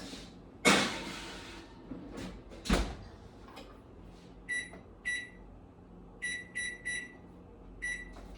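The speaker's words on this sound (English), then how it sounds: "now I put it back in the oven just like this for 10 minutes" A dish goes back into a home kitchen oven: a couple of sharp knocks and a door thud, followed by a series of short high electronic beeps in separate bursts, all fairly close in a quiet room.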